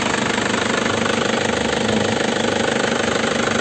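The engine of a 2008 Grand Touring car in original, low-mileage, like-new condition idles at the start. It gives a steady, dense, continuous hum with a fine rapid pulse, loud and close, with no voices.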